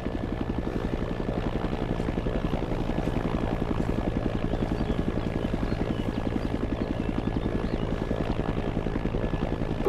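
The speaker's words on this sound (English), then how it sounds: "There's a helicopter." A helicopter flies in the City Life RPG 2 video game, its rotor chopping out a fast, even pulse that stays loud and steady throughout.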